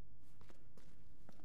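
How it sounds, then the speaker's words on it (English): Faint footsteps in the Resident Evil 2 Remake video game: a few soft, scattered steps at a distance in a quiet, low-rumbling space, with no talking. "I hear footsteps."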